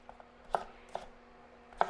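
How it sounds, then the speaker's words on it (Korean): A knife chops lotus root finely on a cutting board, giving a few crisp, separate strikes spaced irregularly, fairly close and quiet with a faint steady hum behind them. "그래서 연근을 이렇게 잘게 잘라서 준비를 해줍니다."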